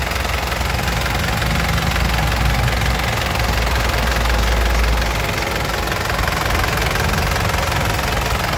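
Engine of a black 2008 Grand Touring turbo, a dry, clean unit with a fresh battery, idling with a steady low rumble, then revved up for several seconds before settling back; loud and close, with no talk.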